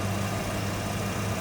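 A 1994 Ford Mustang Cobra Indy Pace Car convertible with its 5-liter engine idles steadily up close, a smooth, even low rumble with no talking over it.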